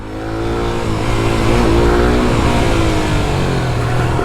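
Suzuki GSX-R 150 motorcycle fitted with a dB killer revving hard and holding a loud, steady engine roar close by for a few seconds, with no talking over it.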